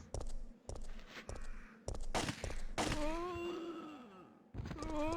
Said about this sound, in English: Oh wait, there's gunfire.